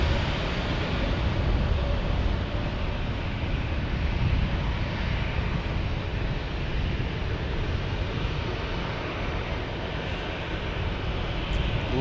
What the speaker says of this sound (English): we get another A320 or A320 from Allegiant. This is Allegiant Airlines.